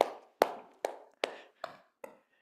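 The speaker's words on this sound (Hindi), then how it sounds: "एक बार जोरदार तालियां हो जाए आप लोगों के लिए" Seven sharp, evenly spaced claps at an audience event, each a crisp close slap with a short ringing decay, falling into a steady rhythm and fading slightly toward the end.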